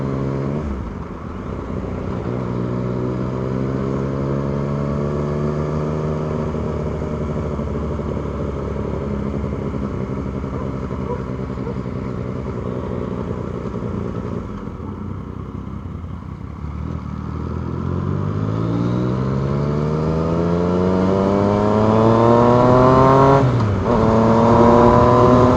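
A Yamaha MT09 or Kawasaki ER6N motorcycle with an M4 exhaust revs up and down repeatedly on a night run, loud and close, with rising and falling engine pitch and no talking.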